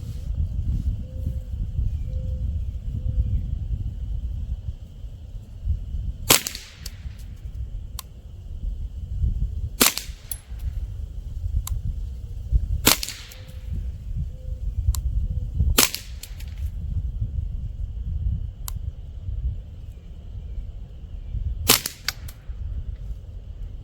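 Ruger Charger .22 LR pistol firing Federal Auto Match rounds at a range: about five sharp, loud shots spaced several seconds apart, each standing alone over a low background rumble.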